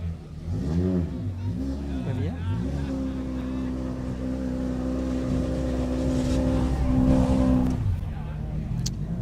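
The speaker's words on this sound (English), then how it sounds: "This little car, little Tatum's been around for a little while." An off-road race car engine idles steadily, then swells in a sustained rev and drops back, loud and close, during scrutineering at the Riverland Enduro near Waikerie, with faint voices underneath.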